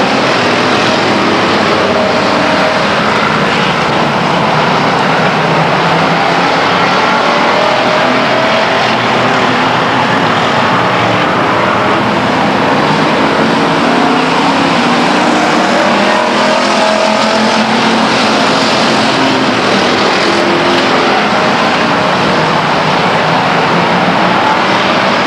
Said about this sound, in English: green flag, racing action for the Pure Stock division